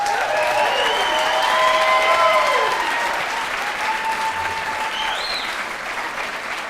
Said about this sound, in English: A big round of applause for Affie Ellis.